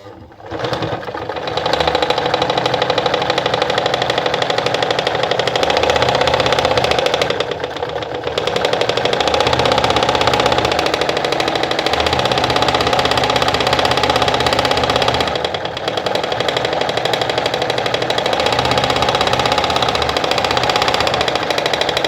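A Pfaff 210 sewing machine stitches a cam pattern at reduced stitch length, running as a steady, loud mechanical whir with brief pauses near the start and partway through.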